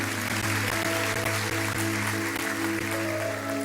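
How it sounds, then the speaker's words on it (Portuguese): A congregation applauds during a Sunday morning church worship service, a dense, steady wash of clapping that runs the whole time beneath sustained keyboard or organ chords. "Dê o melhor aplauso que você pode dar a Deus."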